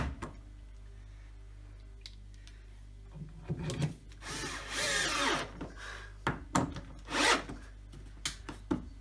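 A power drill drives three screws through a roof boss while it is held overhead during a home-built dumbbell installation, giving short whirring bursts among handling rubs and clatter, loud and close.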